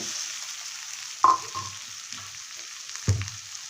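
Boiled potatoes dropped into a frying pan with turmeric, bringing a low steady sizzle broken by two distinct thuds and clatters as the pieces land and get moved.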